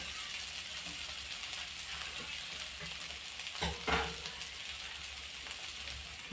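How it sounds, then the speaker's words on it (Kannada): Rice tossed and stir-fried in a pan for a low-oil fried rice, a steady sizzle with scraping, clattering stirring strokes and a couple of louder clanks midway, close and continuous. "ಈಗ ಲಾಸ್ಟಿಗೆ ರೈಸನ್ನು ಆ್ಯಡ್ ಮಾಡುವ"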